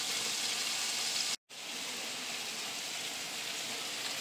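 Lamb sears in a hot pan with a steady, close sizzling hiss that cuts out for a moment and then resumes at an even level.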